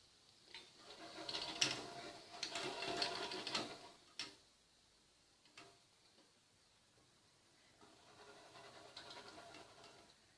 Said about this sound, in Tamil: அதே எண்ணெயில் நான் ஒரு கைப்பிடி அளவுக்கு வேர்க்கடலை போட்டுக்கிறேன்